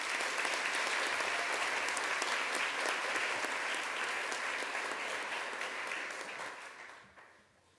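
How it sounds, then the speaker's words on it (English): A board of education meeting audience gives a sustained round of applause for honorees, a steady, fairly distant wash of clapping that fades out near the end. "Please join me again with another round of applause for our honorees."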